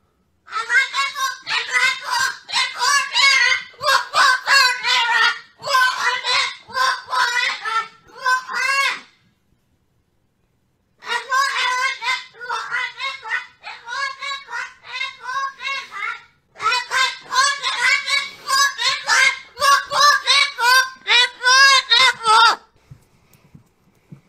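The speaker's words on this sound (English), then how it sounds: "A really, really angry parrot," An angry parrot squawks loudly and harshly in rapid, repeated bursts, broken by a short silent gap before the shrill calls resume.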